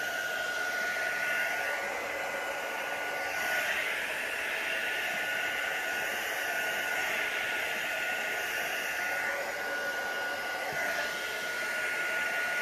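A hair dryer blows steadily on alcohol-ink resin coasters to dry the poured layers, a continuous close whooshing hiss running alone with no talk.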